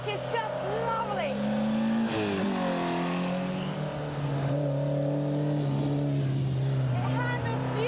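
A kit car built for sprint competition revs hard through its gears, engine note rising and dropping in sweeping pulls, loud and close, while someone talks over it.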